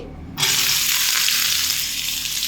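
Small cut potato pieces dropped into hot oil while cooking ghugni: after a brief quiet moment, a sudden loud, close hiss of frying bursts out and continues as a dense, steady sizzle.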